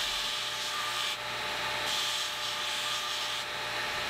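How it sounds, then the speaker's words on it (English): A belt grinder squares the ends of small steel plane irons cut from a saw blade, bringing them to half an inch wide; a loud, steady abrasive grinding hiss runs unbroken over a low hum, with no voices. "I'll then head over to the belt grinder and use that to square up the ends"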